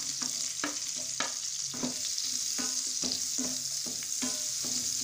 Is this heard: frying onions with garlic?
yes